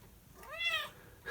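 A cat gives a single clear, close meow with a rising then falling pitch, followed by a short soft rustle.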